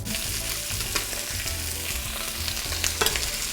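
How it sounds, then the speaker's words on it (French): Pigeon carcasses roasting in a hot pan with shallots, garlic, ginger and carrots, giving a steady, close, continuous sizzle and crackle with occasional stirring scrapes and no talk. "Une fois de plus, laissez bien torréfier les carcasses."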